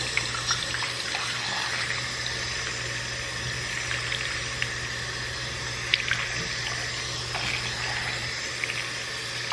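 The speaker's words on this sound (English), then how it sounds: "So rinse it. Being kind of gentle, but making sure you get all the shampoo out." Tap water runs steadily into a sink while hair extensions are rinsed under it, a continuous close splashing hiss with small irregular drips and no speech.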